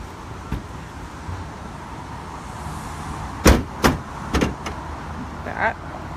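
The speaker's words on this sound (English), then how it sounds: "Now I'm gonna go ahead and pop the hood because it's really pretty under there" Hood release and latch of a 2016 BMW M4 GTS: a few sharp clunks and thumps in close succession, near and fairly loud, then a lighter click, over quiet ambient background.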